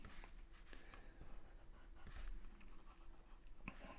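A pencil scratches and glides across paper in a practice sketch, with soft, close strokes of varying length and light taps, quiet and steady throughout.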